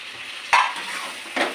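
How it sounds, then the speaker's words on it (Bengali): Young jackfruit and potatoes being stir-fried with spices in a pan: a soft, steady sizzle with two brief spatula scrapes, one sharper near the start and a lighter one at the end. "আমি ভালো করে এঁচড় আলু দিয়ে মশলার সাথে ভালোভাবে কষিয়ে দেবো"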